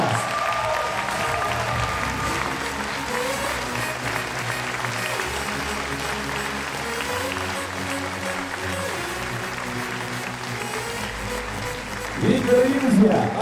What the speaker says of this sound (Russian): Давайте потратим все аплодисменты прямо сейчас!